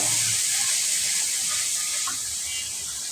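Ginger sizzles and hisses steadily in hot oil in a pan as it is stirred, a close, even frying sound that fades slightly toward the end.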